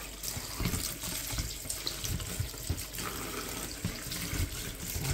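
Water runs steadily from a tap over freshly harvested garden vegetables, including cucumbers, a continuous close splashing hiss with small irregular surges as the produce is rinsed.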